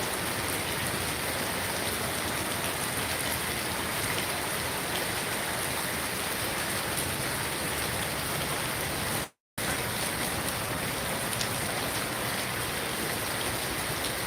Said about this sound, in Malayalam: നിർത്താതെ മഴയാണ്